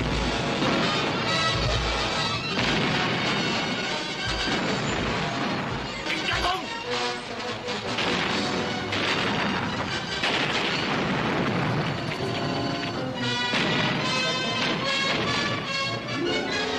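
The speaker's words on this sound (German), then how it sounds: "Signal an die Flotte. Eröffnet das Feuer." Ship cannons firing during a naval battle in a 1953 pirate adventure film, a dense, loud barrage of booms and crashes running continuously under a blaring orchestral score.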